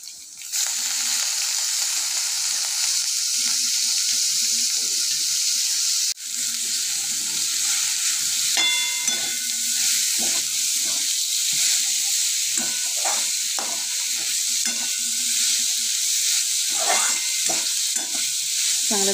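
Dal and shengul are stirred and fried in a pan, giving a steady, loud sizzle with intermittent scraping and clinking of the spoon throughout.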